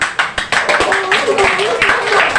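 Students in a classroom give a short round of rhythmic clapping, a few quick sharp claps near the start, then steadier clapping under a speaking voice.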